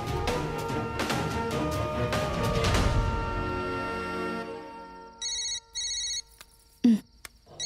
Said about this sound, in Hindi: भूमि के फोन